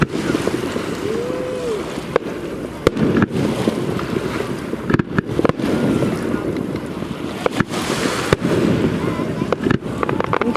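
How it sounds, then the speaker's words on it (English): Fireworks pop and crack at intervals over a steady roar of wind and water, with several sharp bangs scattered through the noise. "I think she really likes the fireworks."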